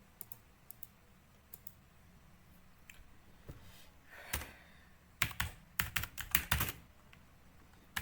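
Computer keyboard keys clicked in scattered single taps, then a quicker burst of typing, close and fairly quiet, with no talking.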